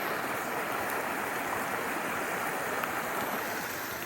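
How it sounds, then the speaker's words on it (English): A small stream with a little waterfall flows beside a wet, rainy mountain path, giving a steady, close, unbroken rush of water. "the stream goes along the path"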